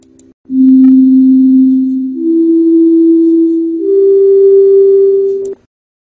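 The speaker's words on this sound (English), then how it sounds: "You can even listen to a function in Sketchpad" A function plays as a pure electronic tone in Sketchpad graphing software, a loud steady sine that holds, then steps upward twice in pitch over about five seconds before stopping abruptly.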